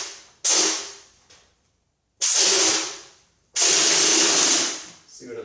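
A hopper gun fed by an air compressor at about 23 psi sprays ceiling texture mud in three loud, close hissing bursts, each ending in a gradual fade and separated by short silences.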